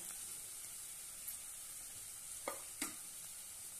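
Turmeric, garam masala, coriander powder and red chilli sauté in oil for a Rajasthani curd and green chilli sabzi, a faint steady sizzle with a few soft stirring scrapes near the end.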